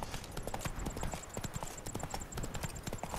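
Steady clip-clop of horse hooves at a quick trot in The Witcher 3: Wild Hunt – Blood and Wine, rhythmic and continuous, with a faint high tone ringing in the background.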